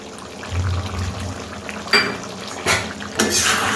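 Fried spice masala is stirred into chicken in a pot, with a low simmer underneath and three distinct clinks of a spoon against the metal.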